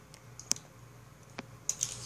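Plastic parts of a Transformers Thundercracker toy clicking during transformation, a few sharp faint snaps spaced irregularly over a quiet background.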